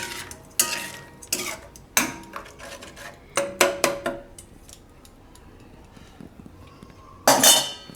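A spoon clinks and scrapes against a pan while mixing uncooked Maggi noodles with Maggi masala on an unlit stove, in irregular bursts of metallic stirring with quiet pauses between.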